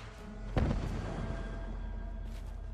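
A single sharp explosion in Fallout 4 booms out, followed by a lingering rumble and a low steady hum, then a fainter blast near the end.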